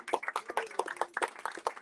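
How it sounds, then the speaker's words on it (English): An audience at a Kwanzaa celebration claps in quick, uneven bursts, with scattered hand claps sounding fairly close and faint. "we can do a little bit better than that. A round of applause"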